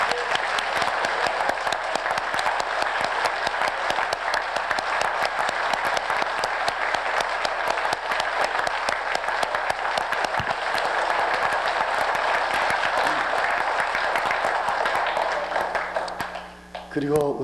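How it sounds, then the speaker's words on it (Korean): A church congregation at a pastors' spiritual training revival meeting gives a long, dense burst of applause, loud and steady throughout before tapering off near the end. "우리 다시 한번 박수로 하나님께 영광을."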